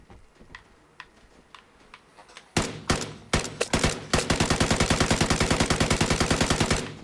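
Gun in the Xbox One shooter Vigor going wild: a few sparse sharp shots, then a rapid, loud, evenly spaced automatic burst hammering on continuously for several seconds.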